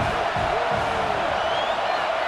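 Stadium crowd roaring in EA Sports College Football as fans urge a late fourth-down defensive stop, a dense, steady wash of cheering with a faint whistle rising over it.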